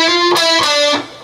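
Distorted electric guitar plays a quick hammer-on, pull-off, hammer-on figure from a riff. Three sustained notes change pitch in succession, close and loud, then fade.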